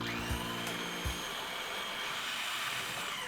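Blender or food processor pureeing white bean dip, a continuous faint motor whir that holds steady after a couple of brief knocks at the start.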